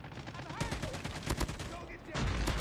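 Rapid automatic gunfire in the mobile shooter Call of Duty Mobile, including an M4 rifle built as a light machine gun, with dense bursts and sharper reports, joined by a heavier louder stretch at the end under a speaking voice.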